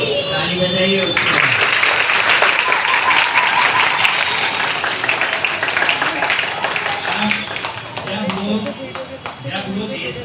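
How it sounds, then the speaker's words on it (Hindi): Children clap together in a classroom, a loud burst of applause that runs for several seconds and then fades, with a teacher speaking before and after it. "ताली बजाइए उसको।"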